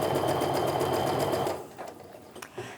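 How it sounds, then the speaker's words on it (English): A sewing machine runs steadily while stitching quilt fabric strips for a Christmas quilt, a loud continuous buzzing whir that stops abruptly partway through, leaving a few faint handling clicks. "Just go ahead and keep sewing all the way down to the bottom."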